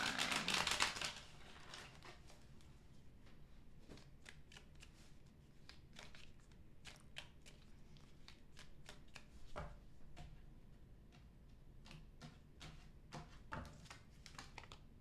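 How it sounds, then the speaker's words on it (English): Tarot cards are shuffled by hand, opening with a dense riffle and continuing as a long stretch of soft, scattered card slaps and flicks. It sounds close, fairly quiet and steady, with no voices. "last shuffle, please, for Gemini."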